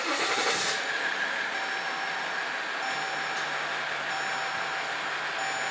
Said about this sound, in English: And then we can keep the motor running.